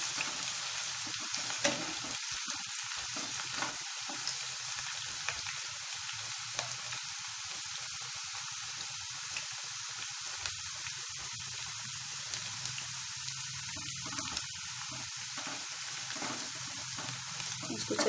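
Onions fry with cardamom, cloves and cinnamon in a pot for a biryani, giving a continuous, even sizzle and crackle throughout. Occasional stirring scrapes sound close up, and nobody speaks.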